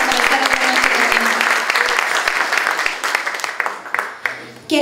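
Audience applause at a live Latin American trova song performance, a dense burst of clapping that swells loudly then thins out toward the end, with a voice briefly heard over it.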